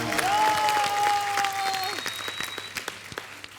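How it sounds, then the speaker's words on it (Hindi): A studio audience on an Indian comedy talk show claps and cheers in a lively burst that thins out toward the end, with a sustained musical tone and scattered individual claps over it. "लेकिन एक बार पवनदीप के लिए जोरदार ताली है ब्रो।"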